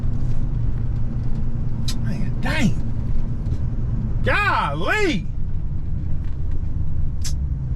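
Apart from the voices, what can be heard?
road traffic, cars passing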